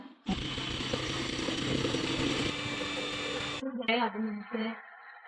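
An electric mixer whips egg whites for fluffy Japanese souffle pancakes. A steady, buzzing motor whir runs for about three seconds and then stops abruptly, followed by a short stretch of voice.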